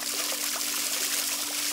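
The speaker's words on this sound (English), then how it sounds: "So that water flow looks pretty healthy." Water pours from the hose of a battery-free solar irrigation pump in a steady, close trickling splash, with a faint pump hum underneath and no talking.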